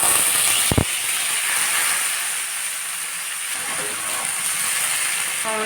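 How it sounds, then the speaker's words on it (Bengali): Steamed jackfruit fries in oil in a wok, a loud steady hiss and sizzle running throughout, broken by one sharp clank early on. "ভাপানো কাঁঠালটাকে ভেজে নিব"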